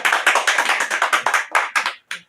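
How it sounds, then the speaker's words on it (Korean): A church congregation claps in welcome for a visiting woman deacon, about a dozen loud, close, evenly spaced bursts of many hands that thin out and stop, with a last lone burst after a pause. "박수로 환영해 주시기 바랍니다."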